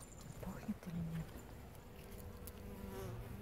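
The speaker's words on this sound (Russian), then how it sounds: "Ну пчелам пахнет, они собирают нектар." Bees gathering nectar from flowering tomato plants in a garden, a faint, steady buzz of insects close by, with low rustling and quiet background noise throughout.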